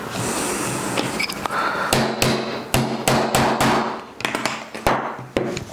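Sharp, close hammer blows knock rivet caps down on a leather windlass holster: a rapid series of hard metallic strikes in uneven clusters, each with a brief ringing thud.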